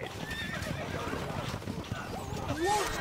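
Horses whinny and neigh amid hoofbeats and a busy mix of sounds in the medieval strategy game The Kings Crusade, with voices calling out in the background.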